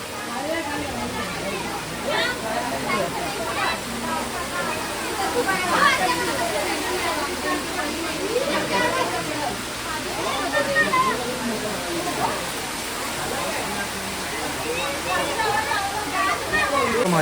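River flowing continuously beside a temple at Gaganbawada, a steady broadband rush of moving water, close and constant, with people talking over it throughout.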